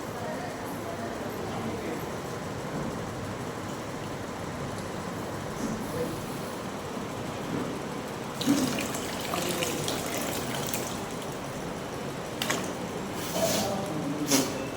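Water draining out of the nose during a yoga nasal cleansing kriya, a steady running, splashing wash throughout with a few louder gushes in the second half.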